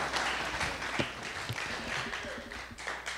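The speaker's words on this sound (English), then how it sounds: "Let's give a round of applause for Rick." Audience applause at a talk on the future of visual communications, a steady faint patter of many hands clapping at a distance, filling the short span without speech.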